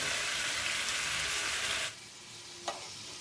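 Cubed medium potatoes fry and are stirred in a pan for a singara filling: a loud, dense sizzle that suddenly drops to a quieter hiss, followed by one brief scrape.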